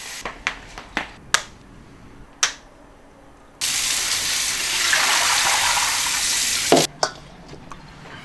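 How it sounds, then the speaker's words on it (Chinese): Running water pours steadily from a tap over lamb bones for several seconds, a broad rushing spray with a few sharp knocks and clatters before and after it, heard close with no talk. "羊骨头冲水过后"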